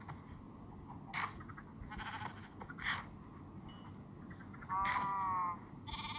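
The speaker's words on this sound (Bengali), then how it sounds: "এখন ভেড়া" Sheep bleat in Minecraft, several short electronic baa calls spaced across a quiet game background, with one longer bleat near the end and no talk.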